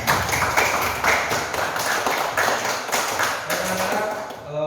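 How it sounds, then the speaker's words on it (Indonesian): A classroom of students claps together in a sustained, fairly loud round of applause with quick overlapping taps, tapering off near the end. "Beri tepuk tangan untuk kita semua."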